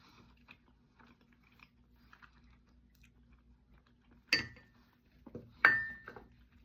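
Someone eats a breakfast of farm fresh beef bacon and eggs, with quiet close chewing, small clinks of cutlery or dishes, and two sharper bites or clatters near the end.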